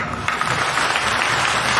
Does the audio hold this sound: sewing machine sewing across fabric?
no